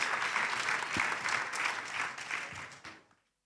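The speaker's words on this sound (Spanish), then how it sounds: "qué lindo aplauso" A festival crowd's warm applause at an on-stage talk keeps up thickly and then thins and fades out to silence near the end.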